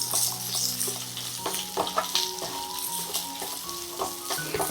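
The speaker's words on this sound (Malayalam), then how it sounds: "ചെറിയ ഉള്ളി ഒന്ന് വാടി വരണം." Sliced small shallots fry and get stirred in a pan, giving a steady bright sizzle broken by clinks and scrapes of the spoon against the pan, close up with no voices.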